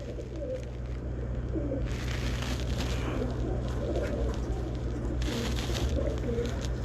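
Pet pigeons in a home loft cooing repeatedly in low, throaty rolls, fairly close, over a steady background hum with occasional hiss.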